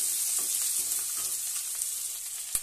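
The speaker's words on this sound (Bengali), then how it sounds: "আর এদিকে আমি পেঁয়াজটা ভাজছি, পেঁয়াজ রসুন একসঙ্গে।" Onions and garlic frying together in a pan, giving a close, steady hiss and sizzle that runs unbroken with faint crackles and one sharp pop near the end.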